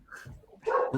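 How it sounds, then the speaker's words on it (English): A single short dog bark, close and fairly loud, with a brief yelp-like tail and no talking over it. "And then you hear a bark."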